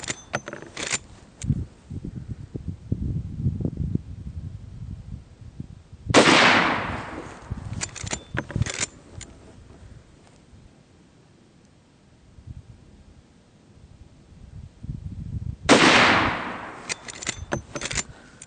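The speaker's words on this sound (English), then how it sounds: "I'm going to start out with firing a group of shots, 4 shots at 50 yards" A Marlin 1894 SBL .357 Magnum lever-action rifle fired at an outdoor range, two loud, sharp shots spaced far apart, each followed by a fading echo, with quieter handling clicks between.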